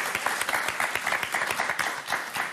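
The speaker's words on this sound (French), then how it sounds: "Allez, on vous applaudit très très fort." Studio audience on the French game show Motus breaks into steady, dense applause, many hands clapping together at close range and sustained without a break.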